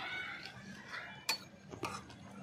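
Garam masala and meat masala are stirred into a chicken curry with a metal spoon, giving a few faint scrapes and two or three soft clinks against the pot over a low background hum.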